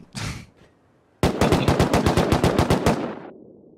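AK fire in the survival game Rust: a brief sound first, then a rapid automatic burst of about a dozen sharp, evenly spaced shots, loud and close, ending abruptly.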